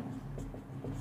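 A pen or marker writing a title on a board for a lesson, quick scratchy strokes that come in short bursts over a low hum.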